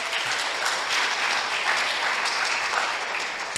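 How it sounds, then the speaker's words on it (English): Steady, full applause from an audience at the opening of a community centre, many hands clapping evenly at moderate loudness throughout, with no voices on top. "Please give her a round of applause."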